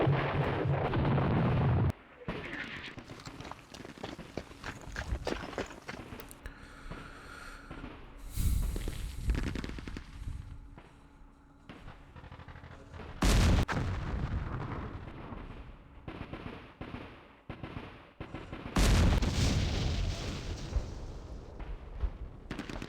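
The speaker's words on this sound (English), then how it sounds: "Artillery sucks so bad." Artillery fire in the World War II Pacific strategy game Campaign Series Rising Sun: heavy booming shell impacts land a few seconds apart, each with a deep roaring blast and rumbling decay, alone without talk.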